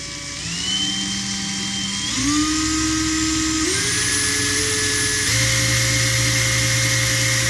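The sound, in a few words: Makita cordless screwdriver motor speeding up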